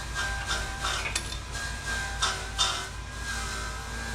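Self-tapping screws being driven to fit small body clips on a Minneapolis-Moline 112 tractor, with a series of close ratcheting clicks and squeaks in uneven bursts.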